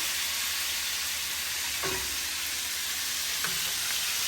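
Shrimp frying in butter in a pan: a loud, steady, close sizzle hisses throughout, with a couple of faint utensil taps against the pan and no talking.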